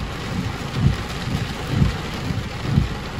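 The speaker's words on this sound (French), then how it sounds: "avec toute cette pluie" Heavy rain during a spring thunderstorm pours steadily with gusty wind buffeting the microphone, while low rumbling swells roughly every second, loud and close with no voices.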